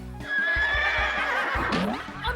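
A horse lets out a loud, close whinny, a high quavering neigh that holds for over a second before breaking into lower snorting tremors, with no voices over it.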